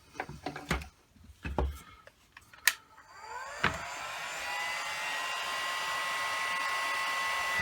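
A heat gun switches on and blows a steady whooshing hum over heat shrink tubing on a small RC Lockheed P80 Shooting Star model build, preceded by a few clicks and handling knocks nearby.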